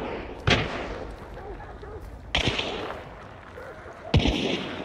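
Chaos Bomb blasts in the game Hunt: Showdown: three sharp explosive bangs spaced about two seconds apart, each followed by a rumbling tail, under a noisy background of crackles.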